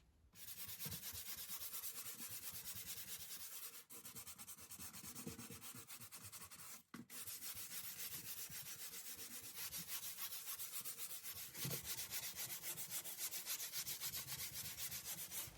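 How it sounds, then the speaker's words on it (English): Primer coat on a pantry door being sanded with 220 grit sandpaper, a steady close rasping scrub in long back-and-forth passes with short pauses between strokes. "I did sand using 220 grit sandpaper to smooth out any texture"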